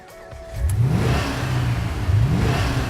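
Holden Maloo performance ute engine revving hard, a close, loud rising roar that swells twice in quick succession with no talk over it.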